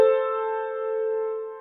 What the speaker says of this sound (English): That's a harmonic third.